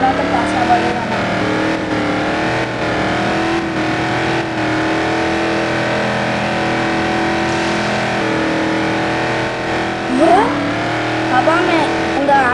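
A car drives through a city in a car-empire video game, its engine humming steadily with shifting pitch and a brief rev near the end, while a player talks over it throughout.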